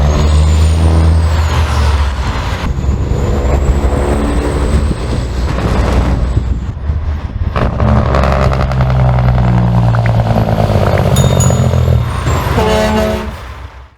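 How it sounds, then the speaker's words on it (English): Heavy truck with a loud engine and Jake brake roars up close, a deep throbbing drone punctuated by sharp air-brake hisses and pitch shifts, continuing for many seconds before cutting off abruptly. "you guys like the Jake brake sound and the loud trucks"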